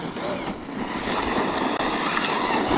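A Team Corally Sketer RC car running on a 5S battery with a Max8 2200kv setup rolls along with a continuous whirring motor drone and wheel noise that swells slightly as it picks up speed.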